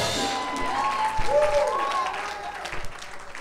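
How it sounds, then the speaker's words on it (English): A church congregation gives a clap offering, a burst of applause from a crowd, with a speaker's voice over it. "Let's give Jesus a big clap offering tonight"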